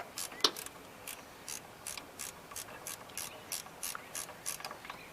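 A 13 mm open-end wrench works a water pump bolt on a 2007 Ford Taurus, giving faint, evenly spaced metallic clicks about three per second against a quiet background.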